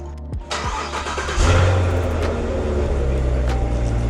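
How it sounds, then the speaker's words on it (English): A Corvette C7 Z06 engine starts up with a quick cranking catch and then roars into a loud, sustained rev, settling into a deep, steady rumble close by. "I take a ride in our C7Z06"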